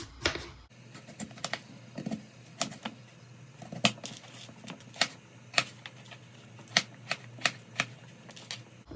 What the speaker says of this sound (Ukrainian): Почистила я картошечку, тепер ми її нарізаємо. Я люблю е, маленькі кубики.